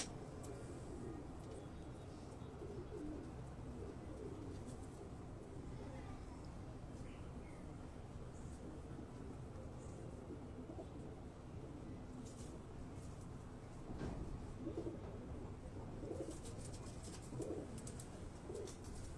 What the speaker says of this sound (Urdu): یہ آپ دیکھ رہے ہیں کہ کبوتر جو ہیں وہ الگ الگ اپنے اپنے خانوں میں